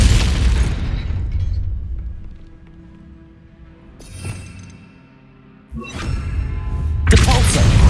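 A Glacius ice spell is cast in the video game Hogwarts Legacy, heard as booming magical bursts with deep rumbling impacts, a quieter stretch of ringing tones between them, and loud whooshing blasts near the end.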